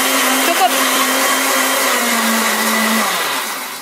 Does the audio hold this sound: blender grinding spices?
yes